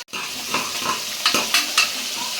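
Small shallots frying in a pan for a leftover-rice dish, a steady close sizzle with several sharp scraping stirs of a spoon against the pan.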